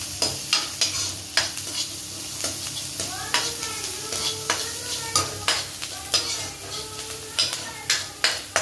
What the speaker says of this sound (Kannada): ಸ್ವಲ್ಪ ಹಸಿ ವಾಸನೆ ಹೋಗೋವರೆಗೂ ಈರುಳ್ಳಿನ ಫ್ರೈ ಮಾಡ್ಕೋಬೇಕು